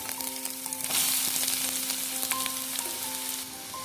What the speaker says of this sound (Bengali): এবার তেলের ভেতর দিয়ে দিচ্ছি রসুন কুচি ও পেঁয়াজ কুচি।